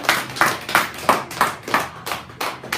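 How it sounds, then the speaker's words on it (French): A team claps together for a departing teammate, about eight firm, evenly spaced group claps in a steady rhythm, close and loud, with no talking. "On l'applaudit."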